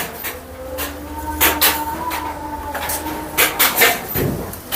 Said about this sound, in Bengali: দেখুন, যখন একসাথে এই সবগুলো মেশিন চলে তখন এখানে এর আওয়াজই অন্যরকম হয়।